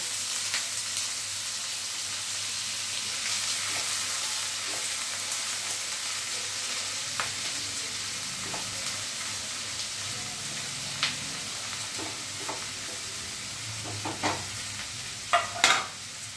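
Minced garlic and chopped onion frying in a pan over low-to-medium heat for chicken cutlet, a steady broad sizzle throughout with occasional stirring clicks and scrapes growing sharper near the end, close and moderately loud.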